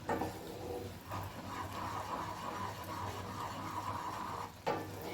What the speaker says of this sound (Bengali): আর একটু নাড়াচাড়া করে এটাকে আমি ঘন করে নেব